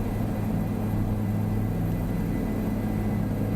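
A helicopter in Microsoft Flight Simulator 2020 gives a steady, low droning rotor and engine rumble with a constant whir, unbroken and moderately loud throughout, with no other sounds.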